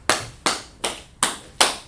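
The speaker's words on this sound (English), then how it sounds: "Clap it up for the sister" Clapping for a speaker at a gathering: five sharp, evenly spaced claps in a slow, steady rhythm, crisp and close, with no talk.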